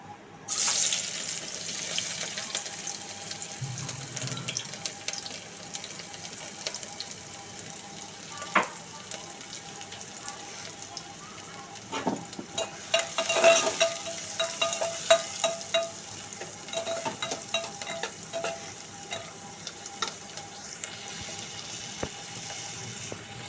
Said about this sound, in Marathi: तेल तापलं आहे आता हे कांदा टोमॅटो मी कापून घेतले आता हे याच्यामध्ये टाकून घेते